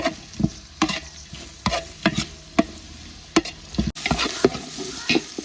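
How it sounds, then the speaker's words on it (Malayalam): Sliced onions sautéing in a pan of cooked-down masala for Arabian chicken kabsa, with a steady sizzle broken by repeated scraping stirs of a spoon, close and clear, without speech. "നമുക്ക് സവോള ഇട്ട് കൊടുക്കാം സവാള നമുക്ക് നല്ല വഴത്തിയെടുക്കാം"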